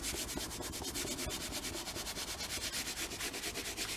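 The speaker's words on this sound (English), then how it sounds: "I'm just rubbing it hard." A napkin rubbed hard onto old book paper makes a quick, steady run of rhythmic scratchy strokes, close and fairly quiet, with no talking.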